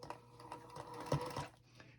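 A sewing machine chain-stitches charm square quilt pieces, giving a soft, quiet run of stitching over about two seconds that swells slightly near the end before easing off.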